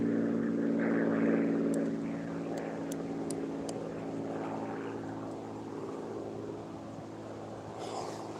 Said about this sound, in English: Rich person flying their Cessna or whatever. Single engine plane.